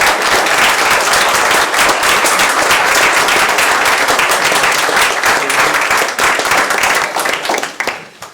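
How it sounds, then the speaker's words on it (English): Loud, dense applause from a standing crowd of partners at a press conference for a grand opening, steady clapping filling the space for about eight seconds before tapering off at the end. "I'd like you to join me in a round of applause in thanking them."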